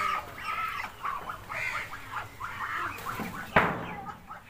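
Chinese ducks on a farm in Assam give several nasal calls in a row at moderate distance, with one sharper, louder honk near the end.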